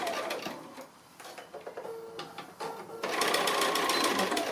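A sewing machine stitches two pieces of fabric around a curved corner in rapid mechanical bursts with short pauses between them, then runs in a long continuous stretch at the end, close and fairly quiet.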